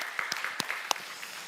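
A church congregation gives a short burst of applause for its youth group, a handful of sparse, fairly quiet claps over about a second and a half.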